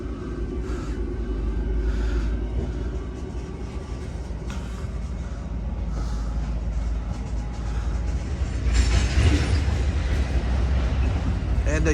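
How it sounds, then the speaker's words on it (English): A Union Pacific freight train pulls away close by with a steady, heavy low rumble that swells slightly near the end, while someone talks over it. "And the Union Pacific freight train is now departed on the side of me."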